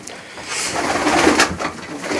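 Pigeons in a breeder's loft coo in overlapping, throaty calls, fairly close and continuous, with a soft rustle of birds around them and no talking.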